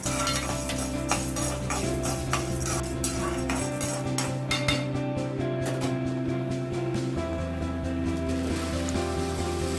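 Chana dal roasting in a lightly oiled pan, with a continuous clatter and scrape of a spoon stirring against the metal, loud and close throughout without any voices.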